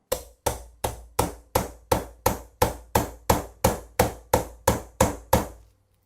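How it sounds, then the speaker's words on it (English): Fifteen evenly spaced, sharp hammer taps on a 1911 pistol barrel resting on a towel to drive out a lodged bullet, each strike a crisp metallic knock with short decay, close and alone. "So I'm going to take a hammer, not too heavy of a hammer"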